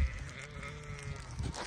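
A lamb bleats once in a drawn-out, quavering cry, fairly close, amid faint outdoor background noise.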